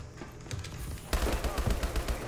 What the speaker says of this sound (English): Oh, I was shooting at him.